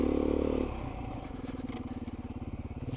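Dirt bike fitted with a Tusk Recon tire and new sprockets climbs a steep singletrack trail; its close engine drones low and steady, then settles into a fast, rhythmic throbbing pulse as it labors uphill.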